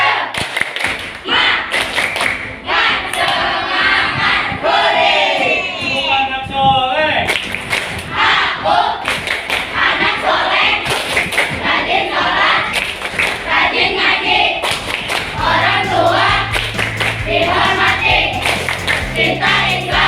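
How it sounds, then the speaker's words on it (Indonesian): A school class does a rhythmic spirit clap, sharp patterned claps and thumps in quick bursts mixed with children's chanting voices and a teacher leading, crowded and close in a classroom. "Tepuk semangat."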